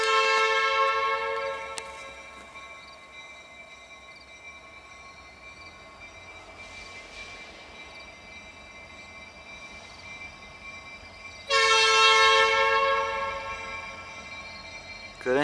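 A CN freight train rumbles away from a crossing at Ladysmith, its loud multi-tone horn sounding briefly early on and again in a long blast near the end over steady rolling noise.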